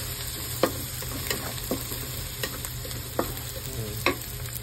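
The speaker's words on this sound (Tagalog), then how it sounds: "Lagyan na natin yung bawang." Garlic frying in a pan for bopis, a steady close sizzle broken by several sharp scrapes of stirring spaced about a second apart, with no voices.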